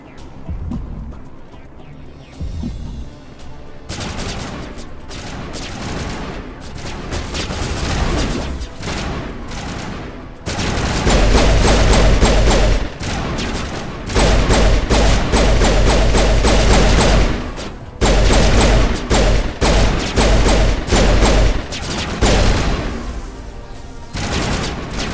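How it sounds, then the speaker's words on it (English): Gunfire and explosive booms in a combat section of the Mass Effect remastered video game, with loud sustained volleys, bursts and heavy low impacts under a busy game soundtrack and no talk. "It's still just shooting."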